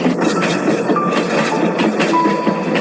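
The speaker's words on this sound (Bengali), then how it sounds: "যাত্রীদের স্টেশনে নামিয়ে দিয়ে রেলগাড়িটা আবার চলতে লাগলো।" A passenger train pulls away from New Jalpaiguri station at night, a steady loud rumble of wheels and carriages with faint clacking and a thin squeal, with no voices.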